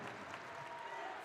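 Cheering crowd noise fills a basketball arena during a women's college game between Michigan and Michigan State, a steady roar with applause that stays at an even level throughout.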